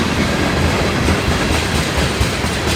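A freight train made up of many tank cars rolls past close by in stormy weather, a loud continuous rumble with rhythmic clickety-clack of wheels over rail joints and no talking.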